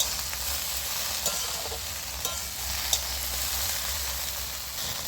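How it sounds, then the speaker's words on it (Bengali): Okra frying with salt in a pan: a steady broadband sizzle runs throughout, with a few sharp clicks and scrapes as a utensil stirs the pieces, close and fairly quiet, no voices. "নুনটা দিয়ে আমি ভেন্ডিটা আবার ভালো করে নেড়ে নেব।"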